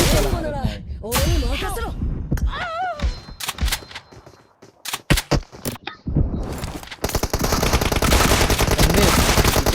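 Rapid automatic gunfire bursts in a mobile shooter video game, loud close rattling volleys broken by short gaps and scraping effects, with a sustained heavy barrage at the end and brief voice-like tones mixed in.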